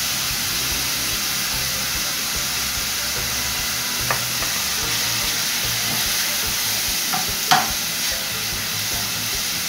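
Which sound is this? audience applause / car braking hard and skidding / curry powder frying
curry powder frying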